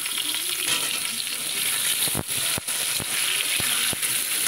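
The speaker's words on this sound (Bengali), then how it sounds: "প্রথমে আমি আলুটাকে একটু ভেজে নেব।" Potatoes fry in oil in a pan with a steady, close hiss, broken by a few short scraping knocks from a spatula being stirred through them.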